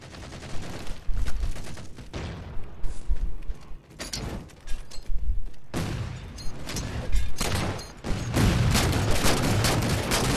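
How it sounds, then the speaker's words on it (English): Rapid bursts of gunfire from a Halo 4 multiplayer match, loud and close, with repeated volleys and booming impacts filling most of the stretch and no talk over them. "I'm loving the sound of the guns"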